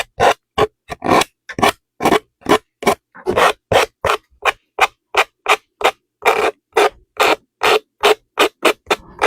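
Coarse 80-grit sandpaper rasping back and forth in steady, loud strokes, a rhythmic scratchy scrape close up with brief pauses between passes.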